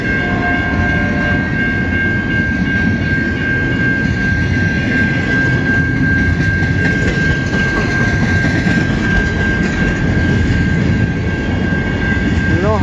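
Two westbound freight trains roll past at a Michigan rail line on a January morning, making a loud, continuous rumble and clatter of cars with a steady high tone running through it throughout.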